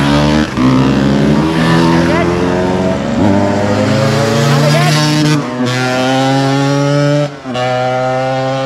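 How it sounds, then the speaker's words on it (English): A two-stroke engine vehicle passes in a village street, its loud buzzing engine tone rising and falling in pitch, close and continuous for several seconds, with a voice talking over it. "It's one of those two-stroke engines."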